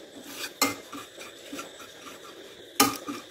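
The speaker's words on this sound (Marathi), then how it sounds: "आणि कंटिन्यू आपण हलवत राहायचं." Sugar melting into caramel in a pan over a very low flame is stirred with a utensil, giving soft continuous scraping and rubbing with two sharp metallic clinks against the pan, no voices.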